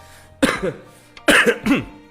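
Two bouts of coughing, each a cluster of rough hacking bursts, close and fairly loud over a low steady hum.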